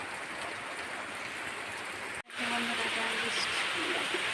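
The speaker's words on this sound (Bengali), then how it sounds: "আবার জোরে এলো ঝমঝম করে" Heavy rain pours down as a dense, steady hiss that cuts out for an instant and then returns slightly louder, with a faint voice in the background.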